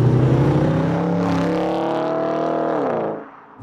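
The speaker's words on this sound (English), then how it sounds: "with most V8s, an aftermarket exhaust is going to bring out the sound" An Audi S5's V8 aftermarket exhaust revs up into a loud, throaty drone, holds a steady high pitch, then drops away as the engine settles near the end.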